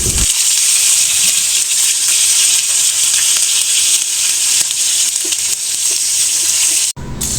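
Lightly pre-fried chicken pieces go back into a pan and fry together, making a loud, even hiss of sizzling oil that holds steady, with a brief break near the end.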